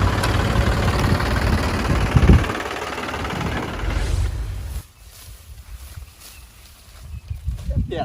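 A tractor engine idles with a steady, loud low rumble that drops to a quieter idle partway through, and voices can be heard over it.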